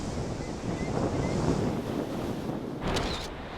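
Ocean waves break on the shore in a steady roar of surf, with wind buffeting the microphone and a brighter wash of spray near the end.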